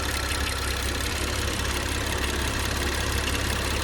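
A BMW N55 engine idling with the hood open, a steady, continuous broadband drone with a low rumble underneath, close and even throughout with no talking.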